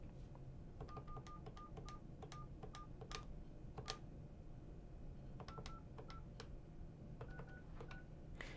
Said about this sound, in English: I simply have to compose the letters by pressing on the keys multiple times